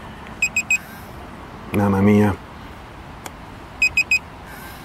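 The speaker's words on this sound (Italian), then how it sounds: "mi preoccupa questo bip bip continuo, l'altro non faceva così." A new Mosquito device gives short electronic beeps in quick bursts of three, repeating at the start and end, while someone speaks briefly in between.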